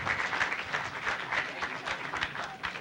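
Audience applause at a national criminology congress, a steady, moderately loud wash of many hands clapping that holds evenly throughout with no voices on top.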